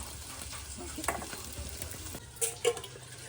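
Onions fry in oil for a village-style chicken biryani, a soft steady sizzle with occasional stirring clatters and a couple of sharper knocks near the end, heard close but at modest loudness without speech.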